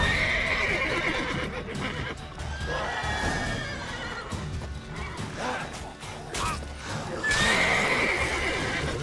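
A horse in The Witcher 3 video game whinnies loudly at the start and again near the end, with hoof clatter and busy background noise between the calls.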